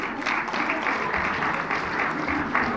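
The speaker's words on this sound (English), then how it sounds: "big round of applause" Steady applause and clapping from an audience at a photography contest prize distribution, a dense wash of hands that holds at even loudness throughout with no pauses.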